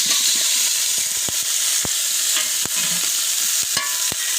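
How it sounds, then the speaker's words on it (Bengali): Potatoes and chicken pieces fry in a pot for chicken dum biryani, giving a steady loud sizzle and hiss with occasional sharp clinks of stirring against the pot. "এবার আলুগুলো দিয়ে দিচ্ছি।"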